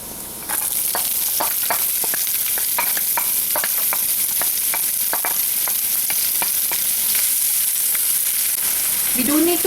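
Cumin seeds hit warm oil in a pan on medium-high heat and start a bright, steady sizzle, with small sharp crackles and pops spaced through it as the seeds fry. The sizzle is close and continuous.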